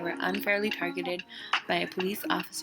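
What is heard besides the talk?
No distinct noise like a dog, phone or traffic.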